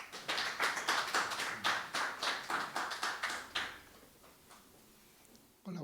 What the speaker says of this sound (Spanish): le damos un aplauso a Carlos